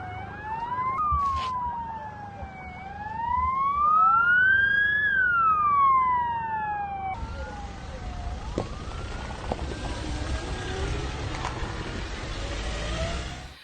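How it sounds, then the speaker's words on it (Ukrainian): An ambulance siren wails with a rising and falling tone as the vehicle drives to help rescue earthquake victims in Turkey's Hatay region, loud and close at first, then giving way to broadband road and traffic noise. "швидка їде допомагати рятувати людей"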